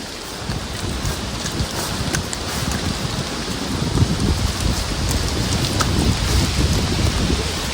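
Heavy rain pours down in a dense, steady roar on a mountain hiking trail on Mount Lawu, constant and close throughout with no pauses.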